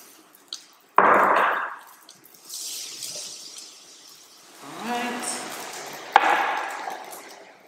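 Quinoa rinsed with running water in a mesh strainer, bursts of splashing and pouring water with a dripping trickle, moderately close, between quieter pauses.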